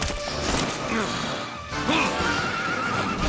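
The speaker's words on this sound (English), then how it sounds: "Did you hear that horse?" A horse neighs loudly in a Dragon Quest XI game scene, its whinny rising and falling over a dense, busy game soundtrack.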